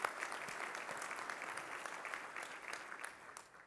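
An indoor audience at the Johnson County State of the County address applauds, a steady wash of clapping held at a fairly faint, distant level for a few seconds.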